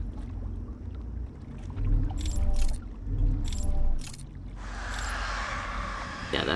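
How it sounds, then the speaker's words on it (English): Creatures dying in the video game Outer Wilds: Echoes of the Eye: a few muffled thuds and low rumbling bursts, then a sustained hissing wash over a steady low ambient drone. "That's the sound of them dying."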